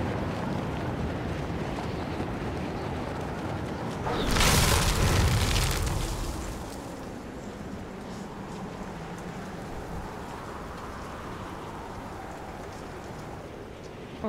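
A single heavy rocket blast in Fortnite squads booms out at about four seconds and rolls on for roughly two seconds. Before and after it comes a steady wash of game ambience, with no voices.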